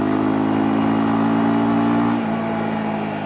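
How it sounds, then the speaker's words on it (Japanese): A Honda CL250 motorcycle engine drones steadily up close, a low throbbing exhaust beat holding constant and then easing off slightly near the end, with no voices. "この排気音のリズムに合わせてドドドドドっていう結構明確な 振動がライダーに伝わってきます。"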